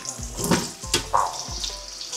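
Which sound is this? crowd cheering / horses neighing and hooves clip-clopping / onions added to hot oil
onions added to hot oil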